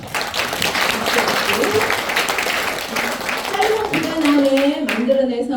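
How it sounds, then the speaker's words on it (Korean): A seminar audience at a company event claps in celebration, dense hand clapping under talk, with voices rising near the end. "이거는 자축의 박수를 한번 치고 가야 될 거예요"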